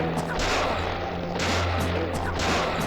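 Three heavy, widely spaced gunshots from the video game Deadly Premonition ring out over a constant dense background roar, each a brief sharp blast.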